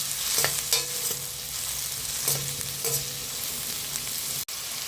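Onions with rock salt sautéing in a pan give a steady, close sizzle, with repeated scraping strokes of a stirring spoon over it and no voices.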